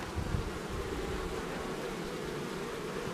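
Honeybees in a hive during a winter inspection, a loud, close, unbroken buzzing hum that holds steady throughout with no voices.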